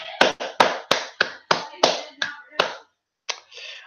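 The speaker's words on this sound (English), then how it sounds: "The four of us applaud." Clapping from four characters in Doki Doki Literature Club, heard as about ten sharp separate claps in an uneven rhythm, then a short pause and a softer final clap.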